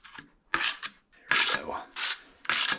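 Joint compound wall patching mud being stirred and scraped on a board, giving bursts of wet rubbing and rasping strokes in an uneven rhythm, close and moderately loud with pauses between strokes.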